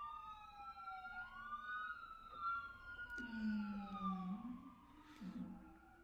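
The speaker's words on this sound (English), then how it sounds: "There is no reason for you to run a siren." A police car siren wailing down an empty street, its sweeping tones rising and falling and overlapping with echoes, moderately distant, with a low engine rumble joining as it passes.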